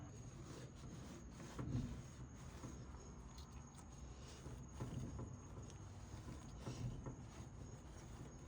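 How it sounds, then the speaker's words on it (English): A rag rubbing the mating surface of an LG washer gear case clean, quiet repeated scrubbing and rasping strokes close by with soft periodic swells, no talking. "Get a rag and fully clean your mating surface."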